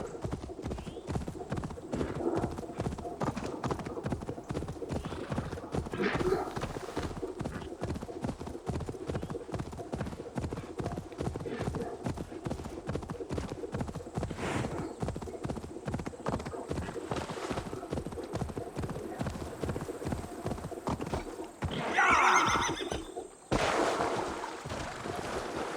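Horse hooves pound in a steady, rapid galloping rhythm throughout a session of the video game Assassin's Creed Valhalla, with a brief whinny and a swell of wind near the end and occasional talk over it.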